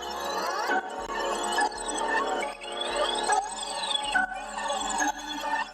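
Looped sample from a track's opening, pitched down 100 cents, playing as a steady melodic loop with layered tones and a low bass hum, no voices.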